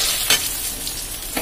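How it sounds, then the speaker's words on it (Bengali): Dry red chillies frying in a pan give a steady, close sizzle with occasional crackles and stirring scrapes. "আমি এটার সাথে শুকনো লঙ্কা ভেজে নেব ওখানে একটা"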